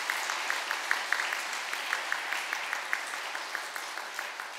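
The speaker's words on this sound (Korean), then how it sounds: "박수로 환영해 주시기 바랍니다." A church congregation claps in welcome during a Sunday service for new members, steady moderate applause with many overlapping hand claps and sharper individual claps, no speech over it.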